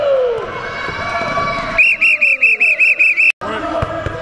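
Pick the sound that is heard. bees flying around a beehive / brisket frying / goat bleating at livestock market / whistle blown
whistle blown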